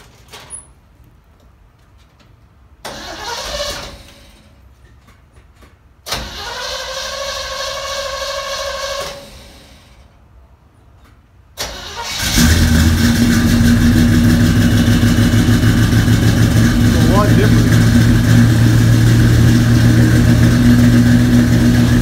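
Car engine with a 2.25-inch exhaust and crossover pipe cranks and catches in short bursts, then settles into a loud, steady close-up idle with deep rumble.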